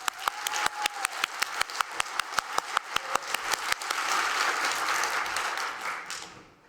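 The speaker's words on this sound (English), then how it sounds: "Then applaud yourself." An audience at a learning-technology conference arena claps for an applause meter; a steady run of sharp, evenly spaced mechanical clicks comes first, then a dense, loud wash of clapping swells and fades out.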